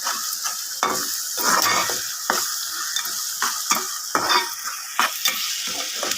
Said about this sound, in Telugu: క్రిస్పీగా బాగా డీప్ ఫ్రై చేసుకోవాలి